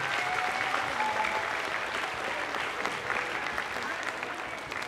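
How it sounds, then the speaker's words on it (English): Children give a sustained round of applause after a primary school interhouse music competition, dense clapping filling the room at steady loudness from start to end, with a faint voice or two mixed in. "so give yourselves a huge round of applause."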